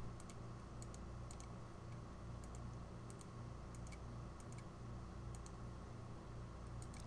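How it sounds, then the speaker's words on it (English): Typing on the keypad of an MC-55 handheld mobile device, a series of quick, faint clicking keypresses in small irregular clusters over a steady background hum, with no talk. "So we'll have to click the box and type in what they signed."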